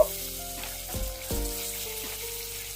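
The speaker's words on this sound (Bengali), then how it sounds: "পনিরগুলো এখন ভেজে নেব" Paneer pieces fry in hot refined white oil with a steady soft sizzle, while a few scraping clatters of a utensil against the pan sound nearby.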